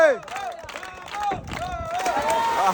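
Spectators crowd around a commando game challenge where a player tries to cross a canal, their clapping and cheering blending into a lively hubbub, with someone talking over the noise.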